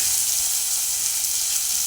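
Curry leaves and onion sizzle in hot oil while a crab soup is being cooked, a steady, loud, even frying hiss that carries on alone throughout.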